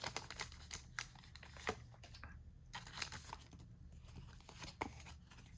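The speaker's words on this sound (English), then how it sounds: "We're going to get the scissors out." Scissors snip and crinkle through the foil wrapper of a Pokémon Go set card pack, a run of close, dry crackling and crunching sounds with brief sharper cuts, heard alone without talk.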